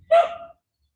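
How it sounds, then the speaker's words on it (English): One short, sharp dog bark rings out close by, then silence. "with all that dog barking"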